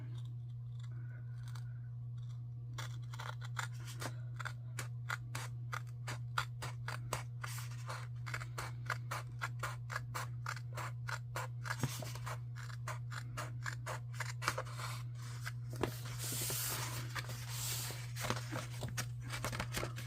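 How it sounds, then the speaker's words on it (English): Scissors trimming paper during a planner-decorating session, a run of small crisp snips and clicks in quick irregular rhythm, close and quiet over a steady low electrical hum. "And then let's trim our paper. So we gotta trim a little bit here."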